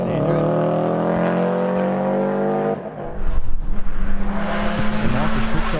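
A hillclimb race car drones loudly at steady revs, then the engine note drops and breaks into rough, pulsing bursts of acceleration as it works through a chicane, with a commentator talking over it.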